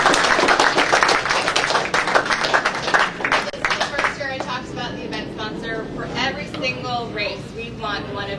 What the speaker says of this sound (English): Now that's something worth clapping about.